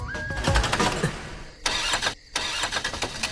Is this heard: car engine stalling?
yes